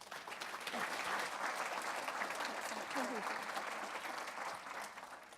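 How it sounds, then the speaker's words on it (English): An audience at a staff development day claps warmly in sustained applause that swells and then eases off, with a voice faintly heard beneath it. "give her a big round of applause"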